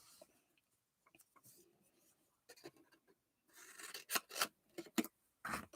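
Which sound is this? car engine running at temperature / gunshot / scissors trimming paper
scissors trimming paper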